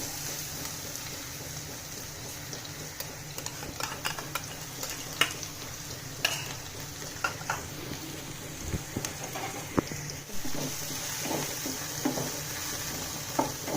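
Crushed green chili and garlic frying in oil with curry leaves, a steady soft sizzle punctuated by light crackles and occasional stirring taps.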